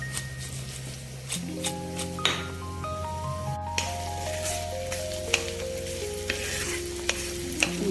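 Onions and prawns fry in a pan, a continuous close sizzle broken by repeated scraping stirs and occasional metallic clinks of a utensil against the pan, with no voices.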